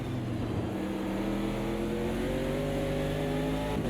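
Camaro race car engine in Automobilista 2: a loud, steady engine drone that climbs in pitch as the car accelerates, close and continuous without talk.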